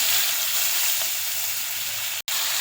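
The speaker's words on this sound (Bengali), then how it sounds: "মুড়ি ঘন্টর জন্য এই যে তেলে গোটা জিরে ফোড়ন দিয়েছি, মাছের তেলে।" Whole cumin seeds tempering in hot fish oil with onions added for a katla fish-head dish: a loud, steady, close hiss and sizzle that cuts out briefly near the end.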